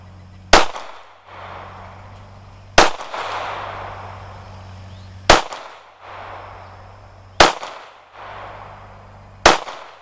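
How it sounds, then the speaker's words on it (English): A Glock 43 9mm single-stack pistol with a short magazine fires five sharp, loud shots about two seconds apart, each followed by a brief ringing echo, with no talking. "And I'm shooting with the short magazine."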